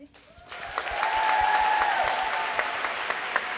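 An audience at a new student orientation welcome applauds, dense clapping swelling quickly and holding steady at moderate loudness, with a faint tone underneath.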